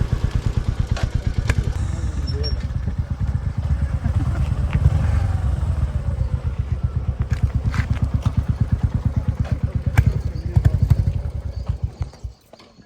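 A motorcycle engine thumps in a steady, rapid pulse at close range during a ride, holding an even rhythm before dropping away abruptly near the end.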